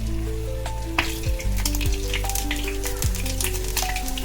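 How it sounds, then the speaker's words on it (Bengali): Onions, black cumin, tomato, garlic, green chillies and spices frying in hot mustard oil: a loud, continuous close-up sizzle with crackles and occasional stirring scrapes, over a faint tonal background. "সমস্ত উপকরণগুলো দিয়ে একটু ভালো করে ভেজে নেব"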